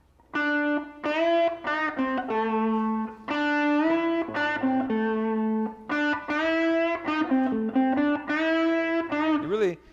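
An overdriven electric guitar plays a sustained lick of held notes with string bends, finishing on a quick wobbling bend.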